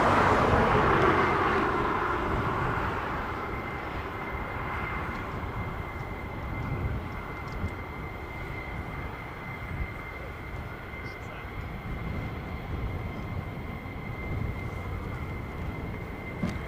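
Two German Air Force Airbus A400M Atlas transport aircraft pass overhead, a broad engine roar loudest at the start and then easing into a long, steady distant drone.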